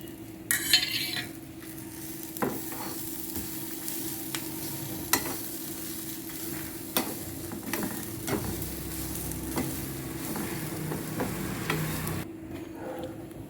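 Coconut roasting in a pan for ground-spice sambar, a spoon stirring and scraping with occasional clinks against the metal over a steady soft sizzle, close and continuous with no talking.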